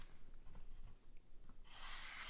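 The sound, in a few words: thin flat-ground knife cutting a piece of paper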